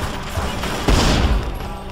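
Lara's guns firing in the Tomb Raider Legend video game, a dense burst of gunfire with a heavier thump near the middle, loud and continuous over roughly two seconds with no talk.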